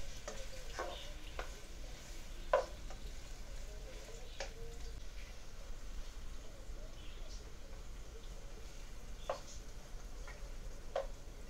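Onions frying toward golden brown for a chicken biryani, a soft steady sizzle with occasional faint clicks and stirring taps, quiet and close with no talking.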